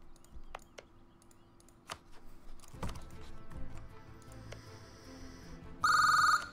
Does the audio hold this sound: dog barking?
no